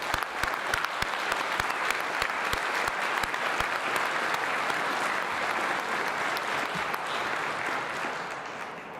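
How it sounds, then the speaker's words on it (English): A crowd at a political rally inside a state legislature building gives a long round of applause, dense clapping with sharp individual claps standing out early, then fading slightly toward the end. "A big round of applause for them."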